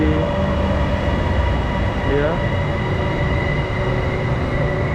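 A Bangkok MRT train at a station makes a loud, steady rumble and hum with a brief rising wheel whine, while a voice speaks briefly over it.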